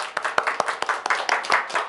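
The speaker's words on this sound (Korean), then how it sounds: "오늘 그 은혜를 베푸신 우리 하나님께 영광의 박수를 돌려드립니다." Members of a church congregation clap in praise, a handful of sharp, closely spaced claps ringing out in a brief, uneven burst.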